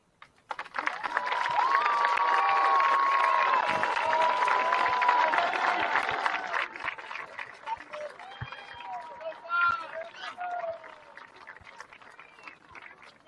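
A crowd applauds and cheers for the teams and student athletes at a men's college soccer tournament final, a loud sustained wash of clapping that fades after several seconds and gives way to scattered claps and voices.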